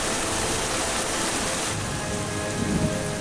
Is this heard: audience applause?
no